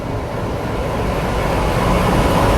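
The Hisar Kota Express, a train standing at Sadulpur station, fills the scene with a loud, steady, broadband rumble that swells slightly toward the end, with no voices.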